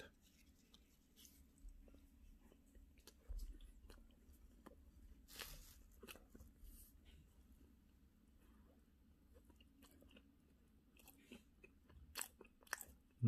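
Quiet, close bites and chewing on the crust of vegan pumpkin rice bread, with soft crunches and moist mouth sounds scattered irregularly at low volume.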